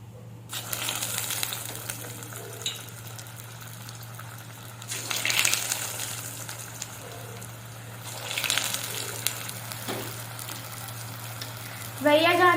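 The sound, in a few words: cheese potato balls frying in hot oil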